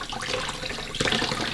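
Fresh tap water runs steadily over an Evolve+ carbon filter cartridge from an Aqua Optima hot and cold water dispenser as it is rinsed, a continuous close hiss of flow that briefly grows louder partway through.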